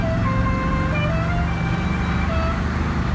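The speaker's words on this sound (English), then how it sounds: "you got a Dixie horn" A novelty Dixie horn on a Ghostbusters Ecto-1 replica car plays a stepped, melodic tune close by, over a steady low rumble from the car's engine, which has straight pipes.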